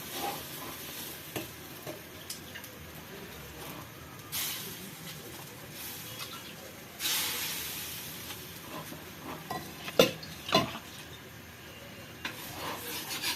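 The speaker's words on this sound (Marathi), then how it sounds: "तव्यावर भाकर शेकायला टाकलेली आहे।" Bhakri flatbread roasting on a hot tava griddle, a soft steady hiss with occasional louder sizzling bursts and a few light scrapes and taps, fairly faint overall.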